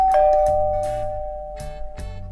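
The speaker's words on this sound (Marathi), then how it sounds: "बेल मारले कोणे" A doorbell rings with a clear electronic chime that lingers and fades, followed by a few sharp knocks or clatters nearby, loud and close in a domestic comedy scene, with no talking.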